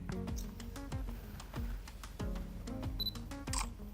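Shutter of a Canon PowerShot G9X II firing at 1/800 second: crisp clicks repeat roughly every half second to second, close and clear, over steady tonal background music.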